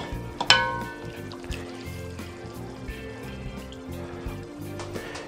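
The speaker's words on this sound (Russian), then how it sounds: "все это объединить в одну кастрюлю" Reduced meat broth and vegetables poured together into one kitchen pot while making a brown meat sauce, a soft trickle and splash of liquid with a few clinks of pot and utensil, fairly quiet throughout.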